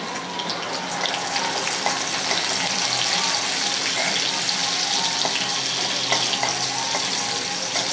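Chopped chilies hit hot oil in a frying pan while cooking a leafy-vegetable dish, giving a loud, continuous crackling sizzle with scattered pops and spatters throughout, close to the pan.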